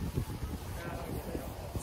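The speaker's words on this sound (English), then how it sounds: "It's really windy in here." Wind gusts outdoors by a ski area, a steady low rumble buffeting the microphone throughout, with faint voices mixed in.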